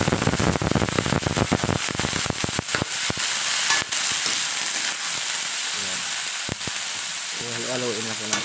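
Pork liempo sizzles and crackles loudly in a hot pan while being cooked for adobo, with dense popping bursts early that settle into a steady hiss, plus faint background sounds near the end.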